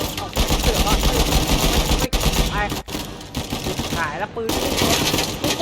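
Rapid machine-gun bursts in the action video game Uncharted 4, loud and dense, broken by brief gaps, with excited voices talking over the gunfire.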